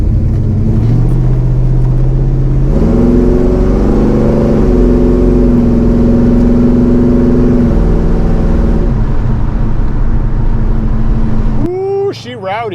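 A Chevelle fitted with a Blueprint 383 engine on its first drive, a loud, close, rumbling engine note that climbs in pitch as it revs through gears, holds, then drops, ending with a brief sharp rising whine.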